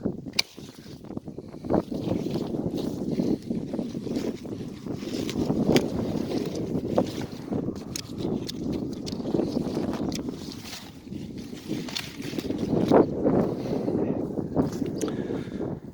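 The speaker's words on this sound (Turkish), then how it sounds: "Rüzgar var." Steady, gusting wind buffets the microphone with a low roar that rises and falls throughout, outdoors among young walnut trees, with nothing else standing out.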